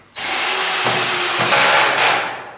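A power drill drives screws into a wall, one loud close whine running steadily for about two seconds with brief dips in pitch, then winding down at the end.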